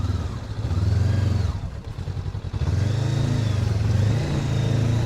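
A Honda NX500 motorcycle's engine revs loudly and up close as the bike loses traction on an off-road trail. Two sustained surges sit on either side of a brief dip, with clattering underneath.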